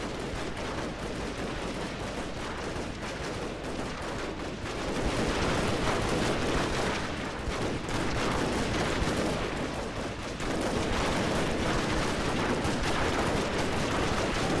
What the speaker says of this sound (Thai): สาดกระสุนครับสาดกระสุน กระสุนยิงเข้าไป